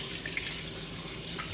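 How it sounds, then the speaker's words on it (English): Tap water rinsing out a French press coffee maker at a sink, a steady close rush of running water splashing into the glass, with no talk. "You just rinse it off with water."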